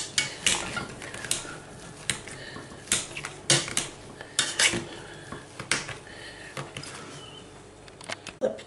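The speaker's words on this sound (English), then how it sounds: "All it takes now is to give them a thorough good mashing." Cooked, drained potatoes are mashed in a pot for a fish pie topping: the masher knocks and scrapes against the metal in a steady run of sharp, close clatters, with no talking.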